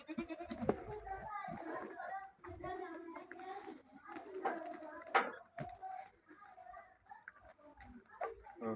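Goat bleats from a Punjabi village setting, several wavering calls scattered over speech and background voices, with other animal sounds faintly mixed in.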